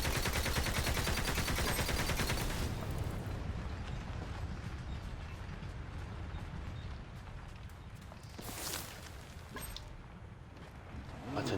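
Dense, continuous gunfire from the Borderlands 3 video game, with Moze firing in rapid bursts, loud and sustained through the opening seconds and then continuing as a busier mix with a few sharper bangs near the end.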